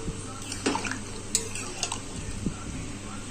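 A pot of soybean chicken curry with gravy simmers on the stove, giving a continuous low bubbling hiss broken by occasional soft pops, heard up close.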